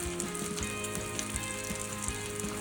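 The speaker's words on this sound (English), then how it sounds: "let's add our fennel and our apple. We're probably gonna cook that down for about 3 or 4 minutes until they're soft." Fennel and apple sizzle steadily in a hot pan, a soft, even crackle that carries on alone at low volume.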